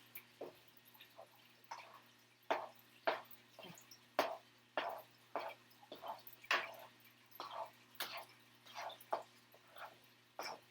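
Shrimp are stirred into a pan of paella with a spoon, giving a quiet series of wet, squishing scrapes at an uneven rhythm, close and soft.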